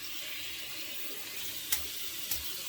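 Hot water runs steadily from a tap over a 24 mm Yaqi Moka synthetic shaving brush, a continuous hiss with two brief clicks near the end, close and alone.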